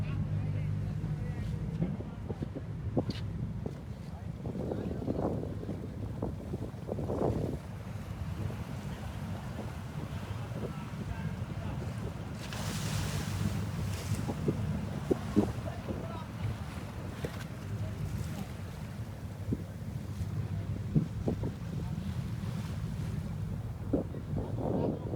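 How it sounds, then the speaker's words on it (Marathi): A ferry boat running from Murud to Dighi carries steady engine rumble and wind buffeting the microphone, with waves sloshing against the hull and occasional voices nearby. "तिकडची फेरी बोट आहे जी मुरुडवरून सुटते दिघीला जायला"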